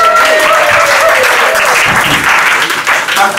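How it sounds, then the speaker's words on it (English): An audience at a poetry slam claps loudly and continuously for a few seconds, dense applause close by with some voices mixed in. "Big round of applause for Melissa."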